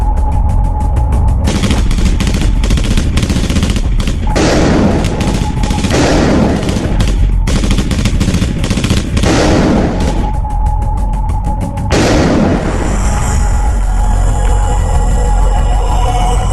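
Machine gun fire from Dutch Marine Brigade infantry advancing on Surabaya, loud and sustained, with rapid bursts and heavy booming shots rolling over constant battlefield noise and no talk.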